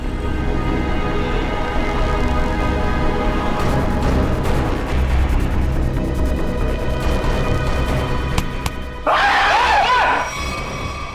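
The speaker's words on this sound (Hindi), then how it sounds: "लड़की की तरह चीखता क्यों है?" A man in the CID crime drama lets out a loud, wavering scream near the end, after a stretch of dense, noisy background sound.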